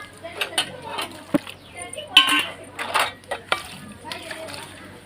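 Brass vessels clink and clatter during washing, with scattered metallic knocks and splashy scrubbing while someone talks now and then.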